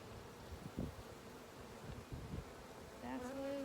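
Honey bees buzz steadily around an open hive during an inspection, a low, fairly faint drone with soft rustles and handling bumps from the frames and a brief rising whine near the end.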